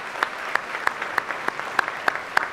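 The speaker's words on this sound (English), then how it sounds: "Let's give them a round of applause" At a dental school white coat ceremony, sharp claps land in an even, steady rhythm, about eight distinct strikes roughly a third of a second apart over a quiet room background.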